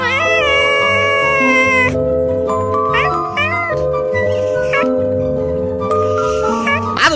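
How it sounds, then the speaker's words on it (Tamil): An orange cat meows repeatedly through the stretch over steady background music with chiming tones, the calls close and fairly loud. "ஆரஞ்சு பூனையாரா வீட்டுல இருக்கிறீங்களா உள்ளேனையா"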